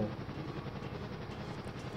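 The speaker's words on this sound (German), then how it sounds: "Der orangene Hubschrauber, der oben fliegt, der ist bei mir gerade vorbeigeflogen." An orange helicopter in a video game flies past overhead, a dense rotor thrum and engine roar holding steady at close range for a couple of seconds with no talk.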